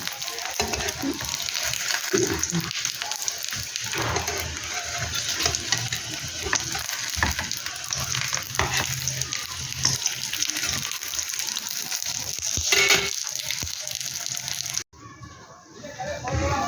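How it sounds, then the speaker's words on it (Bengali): Aloo paneer parathas fry in a pan with a steady, close sizzle running almost throughout, broken by a few clattering stirs before a brief quieter moment near the end. "বাকিগুলো আমি একইভাবে তৈরি করে এই একইভাবে আমি আবার ভেজে নেব"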